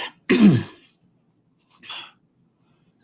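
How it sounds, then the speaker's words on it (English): A single throat clearing, a short rough burst followed by a quieter second rasp after a pause, close and otherwise silent. "to clear my throat"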